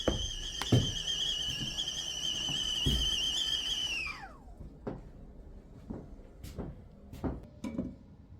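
Kettle on a small 5 kW wood-burning stove whistles loudly with a steady shrill tone, then drops off as it is lifted away, followed by scattered clanks and knocks nearby.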